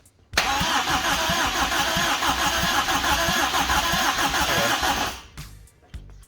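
A Toyota KE10 Corolla engine fires for its first start after a rebuild, with a loud, close, rough running roar held for about five seconds before it cuts out and sputters briefly.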